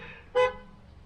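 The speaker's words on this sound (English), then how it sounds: "Sorry for all the beeps." A single short car horn beep sounds in a car park, heard at a distance, brief and fairly faint against a quiet background.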